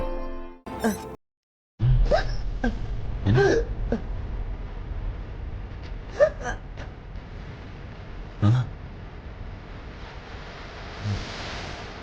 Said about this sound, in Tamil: ஏன் இப்படி விக்கிட்டே இருக்கீங்க? விக்கல் வந்தா விக்க தானடா செய்யும்